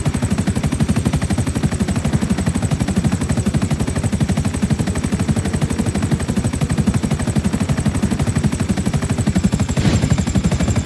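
Helicopter rotor in GTA V, a fast steady chopping thud with a whining high turbine tone, loud and continuous throughout with no talk.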